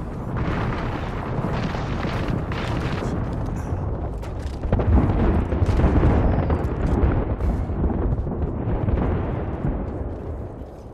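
A grenade explodes in the battle-royale shooter Apex Legends, a dense, sustained booming roar that swells midway and stays loud for several seconds amid game noise.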